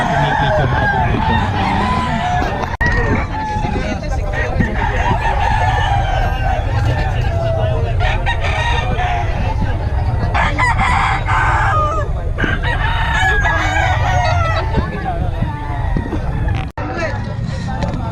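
At a chicken market in Bocaue, roosters crow over and over and hens cluck amid a steady crowd murmur with people talking, a car audible now and then.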